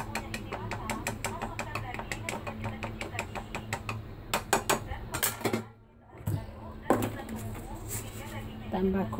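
Repeated clattering scrapes and knocks of a utensil mixing ingredients for sweet and sour shrimp in a bowl, brisk and uneven, with a brief pause midway.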